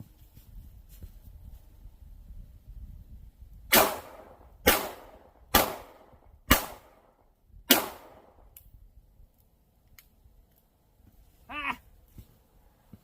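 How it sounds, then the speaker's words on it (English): Five sharp gunshots from a Taurus revolver in .32 H&R Magnum fired at a paper plate, spaced about a second apart and loud, each with a short ringing tail, followed by faint clicks and a brief metallic rattle. "I'll shoot that top paper plate again"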